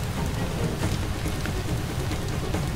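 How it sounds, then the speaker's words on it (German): Fire burning in the video game Far Cry 2. It gives a dense, steady, loud crackling and hissing roar with no pauses and no voices. "Oh, aber ich glaube, das Feuer kommt hier rein."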